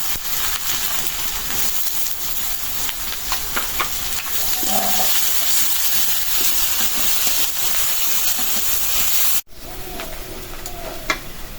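Onion and garlic fry in a pan with dried chillies, a soft continuous sizzle with a few scattered stirring taps, steady and close, briefly interrupted by a cut near the end.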